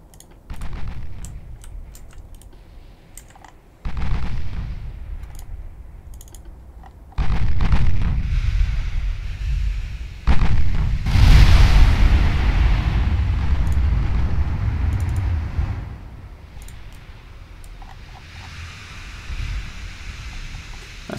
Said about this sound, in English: Oh wow, secondary gun's opening up already.